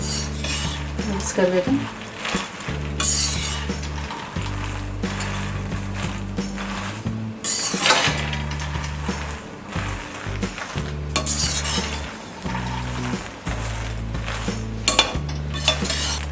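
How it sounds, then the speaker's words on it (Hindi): Roasted makhana fox nuts stirred with spices in a pan, with continuous scraping and rattling of a utensil against metal in repeated strokes, close and fairly loud, alongside a low steady hum. "इसमें डालेंगे ये रोस्टेड मखाना"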